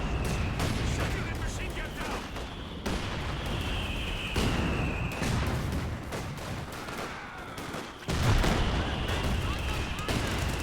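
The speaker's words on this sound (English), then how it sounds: "Heavy mortar barrage coming out by the mortar pit." A heavy mortar barrage in the Company of Heroes 2 game rumbles on as a dense, continuous wash of distant shell blasts and gunfire, with a louder impact near the end, while a commentator talks over it.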